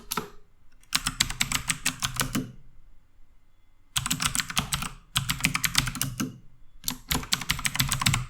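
Rapid typing on a computer keyboard in quick bursts of clicky keystrokes, separated by short pauses, close and clear with no speech.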